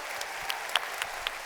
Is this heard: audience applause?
yes